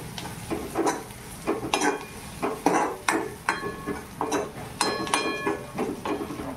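A spoon stirs gram flour pithale in a pan over high heat, making rhythmic scraping strokes about once a second with metallic clinks against the pan under a faint sizzle, close up and without voices.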